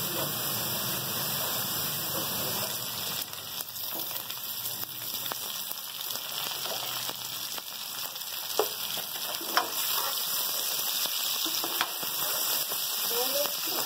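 Liver pieces (kaleji) frying with onions in a pan, a steady soft sizzle with occasional pops and stirring clicks, fairly faint and continuous.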